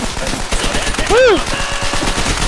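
Rapid, continuous machine gun fire rattles loudly in the Call of Duty: World at War video game, with a short rising and falling tonal whine briefly cutting through the dense bursts.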